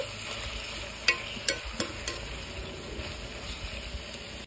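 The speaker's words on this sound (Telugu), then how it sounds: "ఇప్పుడు టమాటా ముక్కలు కూడా వేసేద్దాం. వేసేసి ఇంకోసారి కలుపుదాం." Tomato pieces frying with fried onions for a ridge gourd and chana dal curry, a steady close sizzle with a few sharp clicks and scrapes of a spoon stirring in the pan.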